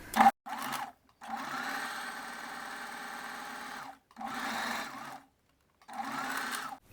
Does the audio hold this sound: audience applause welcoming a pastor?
no